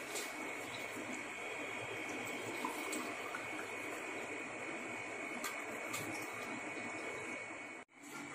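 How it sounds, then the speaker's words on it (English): Two glasses of water poured into a lemon drink for a no-cook summer refresher, a steady broadband splashing pour running continuously and fairly close, then cutting off abruptly near the end. "Now after adding the lemon, I am adding 2 glasses of water."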